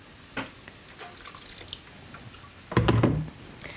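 Water is poured into thick, creamy peanut sauce in a bowl, giving a short wet splash and trickle after faint kitchen clatter, close up with no talking.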